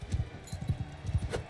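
Horse hooves pounding in Mount & Blade II: Bannerlord, a quick rhythmic clip-clop of galloping close by, with a brief higher cry near the end.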